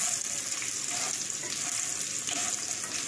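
Raw mango pieces fry with fenugreek, fennel and onion seeds and hing in a hot pan for sweet-sour launji, giving a steady close sizzle with scraping stirs mixed in and no talking.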